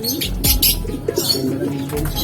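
Pigeons in a Filipino racing-pigeon loft coo in low, repeated bursts close by, with a few brief higher chirps and handling noise mixed in.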